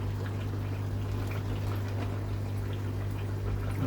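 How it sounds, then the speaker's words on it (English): Water runs steadily from a garden tap through a short length of hose at low pressure, a continuous close rushing and trickling with no speech. "I'll let the water flow through."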